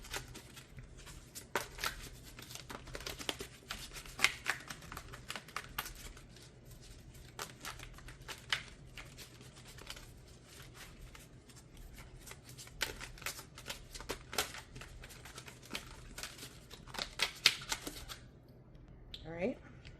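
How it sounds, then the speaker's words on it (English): An oracle card deck being shuffled by hand, with steady crisp riffling and flicking of cards running nearly throughout at close range, pausing briefly near the end. "All right, let's shuffle these up."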